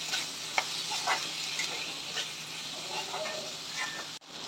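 Soaked green peas being stirred into a curry in a pan, a steady sizzle and frying hiss with scraping stirs of a spoon in the mix, fairly close and alone without talk.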